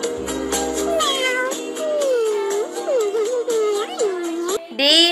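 A cat meows repeatedly, a series of rising and falling cries close up, with one sharp, higher yowl at the end.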